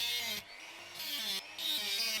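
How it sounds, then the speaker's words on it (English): A Dremel rotary tool cuts into a plastic battery cover, its high, steady whine broken by two short pauses as it is lifted off and set back on the workpiece, loud and close. "I suppose I ought to get this in a soft vise and use two hands to control the Dremel"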